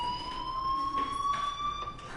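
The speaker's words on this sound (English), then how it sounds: "do you hear that fire alarm? That means you should be outside." Fire alarm in the video game Life Is Strange, a steady high electronic tone held continuously at moderate level with faint background noise and no talk.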